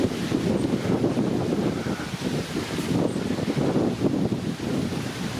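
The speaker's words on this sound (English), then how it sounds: "Oh yes, that wind is cold actually." Cold wind gusts across a microphone on a countryside walk, a steady, close rushing roar that swells and eases with no voices.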